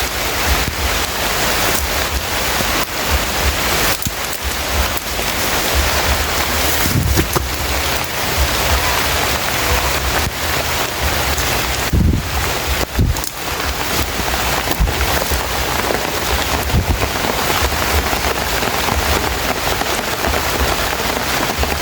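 Heavy rain pours continuously in a horror video game, a loud, dense hiss with wind-like swells and a few brief thumps, unbroken for the whole stretch.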